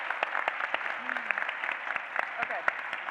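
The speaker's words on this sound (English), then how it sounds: "a round of applause, please" An audience at a leadership summit applauds steadily, with dense, even clapping and a few sharper claps standing out. Speech is faintly present underneath.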